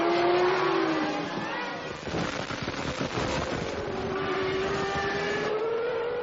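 A 1997 Formula 1 car pulls into the pit lane for refuelling, a high engine whine sliding down then steadying, with a broad roar of nearby machinery and crowd noise, fairly distant and continuous.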